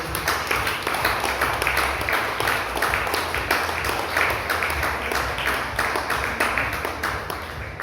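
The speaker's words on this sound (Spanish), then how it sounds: "Denle una vez más fuerte aplauso al Señor." A church congregation applauding together, steady dense clapping from many hands that holds loud and unbroken throughout, with no talking over it.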